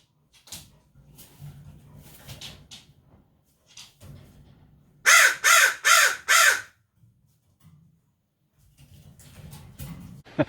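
A crow moving about a yard gives a run of four loud, evenly spaced caws in the middle, with quieter rustling and a few faint sounds before and after.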